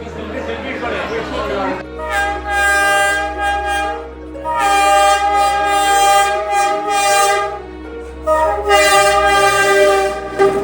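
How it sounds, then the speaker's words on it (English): A train rumbles past very close on a street in Hanoi, Vietnam, its horn blaring in long sustained blasts over the heavy roll of wheels. "Here comes another train, the 720."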